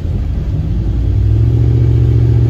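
A steady, loud engine drone from a Caravan van with a turbocharged LS V8, a low rumbling tone that rises slightly in pitch partway through, with turbo whine dominating over the exhaust.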